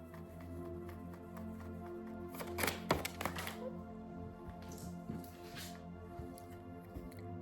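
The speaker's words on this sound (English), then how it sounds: "So I'm gonna keep shuffling." Tarot cards being shuffled: a short flurry of soft, papery riffles and taps in the middle, faint and close against a quiet humming background.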